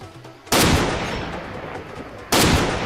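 Loud bursts of rapid automatic gunfire from the shooter game Far Cry Classic, one long sustained volley followed by a second burst starting near the end, close and with no talk.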